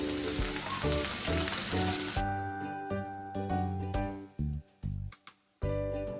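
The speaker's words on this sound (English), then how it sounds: "We'll roast these onions till they are golden brown and soft on low flame and not on high flame." Onions roasting slowly in a pan on low flame with ginger and garlic give a broad sizzle for about two seconds, then a softer, patchy hiss beneath steady background music.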